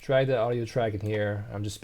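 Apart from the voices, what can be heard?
No everyday noise stands out behind the speech.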